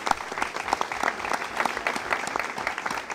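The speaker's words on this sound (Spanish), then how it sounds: "Matilde Segura, la hermana de Olivia, a la cual un aplauso para ella" Applause from the audience at a book presentation: a steady patter of many hands with individual claps standing out, sustained at moderate volume throughout the short stretch.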